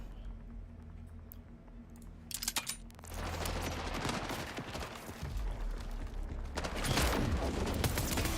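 Rapid bursts of gunfire from a ricocheting weapon in a video game, the dense firing starting a few seconds in and continuing loud and steady under a busy game soundscape.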